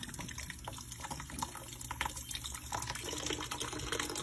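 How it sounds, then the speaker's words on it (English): Cold water runs from a kitchen sink tap at low volume, a steady close trickle and splash over grain being rinsed, with no voices. "I'll run cold water"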